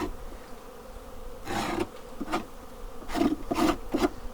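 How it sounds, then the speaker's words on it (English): A hive tool scrapes the wooden frame rests inside a beehive box in spring, several short rasping strokes in bursts near the microphone, with a low background hum and no talk. "Just scraping where the frames go up against the box."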